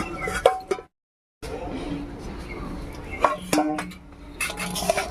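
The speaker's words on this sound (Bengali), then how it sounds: "এবার ঢাকাটা তুলে নিচ্ছি" Lid lifted off a cooking pot of pumpkin vegetable dish, with metallic clinks and rattles of pot and cover near the start and again later, separated by a brief silence, with a voice talking through it.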